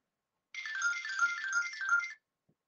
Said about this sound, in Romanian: Scuze, mai sună telefonul